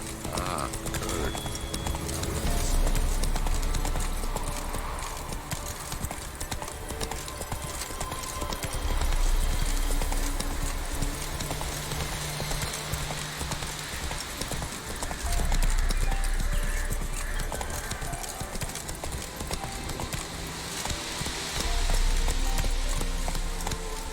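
Roach, the horse in the video game The Witcher 3: Wild Hunt, gallops with continuous loud clip-clopping hooves close by, with periodic low rumbling swells in the game ambience and no voices.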